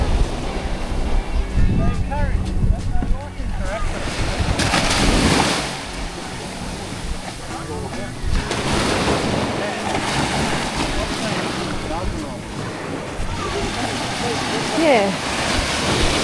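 Ocean waves break and wash onto a beach on the Margaret River coast, a loud continuous roar with surging swells, heavy wind buffeting the microphone throughout.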